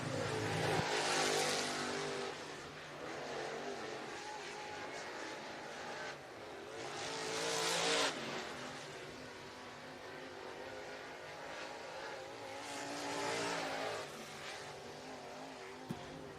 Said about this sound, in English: Coming up to the checkered flag, your first group of cars, quick time, is very, very close.